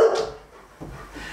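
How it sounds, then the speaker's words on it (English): A dog lets out a loud yelping bark up close, then a softer whimpering follow-up, brief and alone. "Good lord, dog!"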